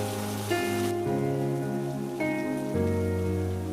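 Heavy rain hisses in a steady wash beneath sustained musical chords that shift a few times, with no voices.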